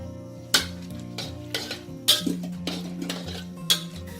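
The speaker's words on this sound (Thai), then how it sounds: "น้ำมันเริ่มร้อนนะ ใส่พริกลงไปทอดเลยค่ะ" Chilies dropped into moderately hot oil in a pan for a Thai pork-rib naem dish, with a soft steady sizzle and several sharp clinks of a utensil against the pan, close and without talk.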